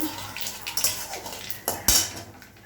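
Whole spices such as cardamom, cinnamon, nigella seeds and bay leaf get stirred in hot oil in a pan, giving a few metallic scrapes and clinks of a utensil against the pan, with a louder knock near the end.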